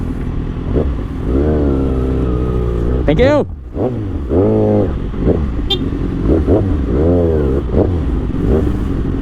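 A Kawasaki ZX6R motorcycle idles and revs in stop-and-go traffic, its engine note rising and falling close by, with a passing horn toot and people talking over it.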